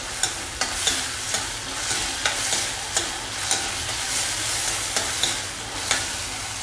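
Capsicum sautés in a pan for a tava cheese corn sandwich, a steady soft sizzle broken by regular spatula scrapes and stirs, close and fairly quiet, with no talk.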